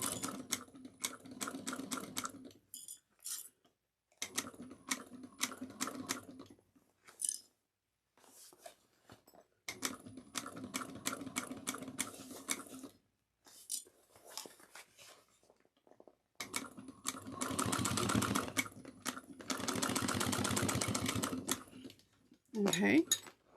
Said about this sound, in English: I'm just making sure that this bias binding on the top stays nice and secure as we continue with the sewing